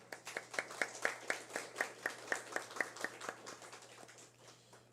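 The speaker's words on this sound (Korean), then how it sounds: "박수로 환영하겠습니다" Light, scattered clapping from a small church congregation welcoming a newcomer, fairly faint and steady for a few seconds before tapering off.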